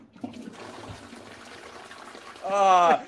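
A toilet flushes in a short, loud watery burst near the end, after a stretch of faint background noise.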